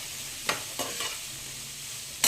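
Carrots and green peas are stir-fried for vegetable fried rice, with a low, constant sizzle and a few quick spatula scrapes against the pan that are heard up close.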